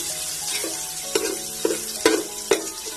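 Chopped onion fries in oil with bay leaf and garam masala, a low steady sizzle with four or five distinct spatula clacks against the pan, close and clear.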